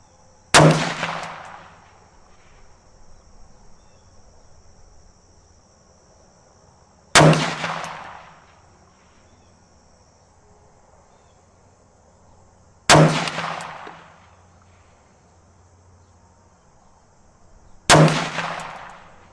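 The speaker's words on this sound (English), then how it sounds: "Let's shoot another 5-shot group at the top left target." Four rifle shots ring out several seconds apart from a shooting position using an LPVO scope, each a sharp loud crack with a short decaying tail, separated by quiet pauses.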